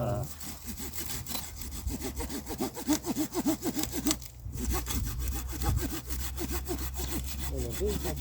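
Hand sawing through a branch at its base while pruning grapevines and pear trees outdoors, a close, rhythmic back-and-forth rasp of the blade through wood with a short pause midway.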